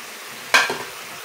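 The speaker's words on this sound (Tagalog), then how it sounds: "lutuin pa natin maigi yung sayote" Chayote (sayote) stir-fries in a pan: a single short, close stir and sizzle burst rises sharply from quiet background and fades within half a second.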